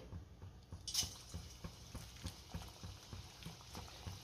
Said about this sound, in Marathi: आता आपण भजी तेलामध्ये सोडूयात